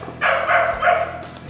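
Pit bulls in a kennel give three loud, close barks in quick succession, each bark short and harsh, with a brief pause between them and no voices over the barking.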